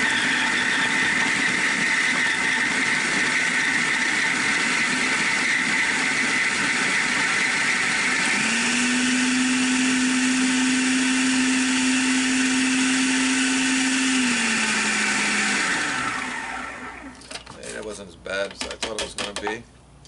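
Outdoor food processor or blender chopping butter into flour for a Dutch oven blackberry peach cobbler, a loud continuous motor whir for about fifteen seconds that shifts pitch partway, then stops into jerky rattling bursts.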